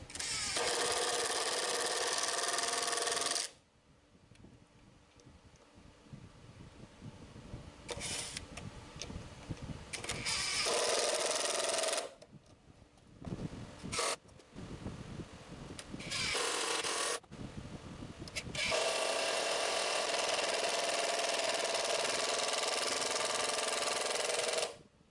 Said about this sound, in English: Screw the bottom screws into the hub key.